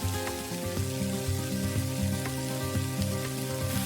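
Capsicum is added to a hot pan on a cooking show and sizzles in a steady, crackling patter like light rain, with faint ticks and a low hum running underneath.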